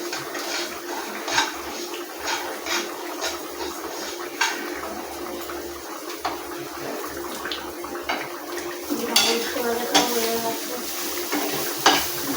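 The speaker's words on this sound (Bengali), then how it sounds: "ভাজা হচ্ছে" Close, ongoing sizzle of food frying in a pan, broken by scraping and clinking stirring sounds at an uneven rhythm throughout.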